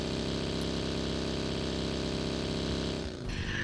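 A motorbike engine in the PUBG squad race game runs at a steady, loud, continuous drone with a strong harmonic buzz. It holds for about three seconds, then drops away into a softer rushing sound.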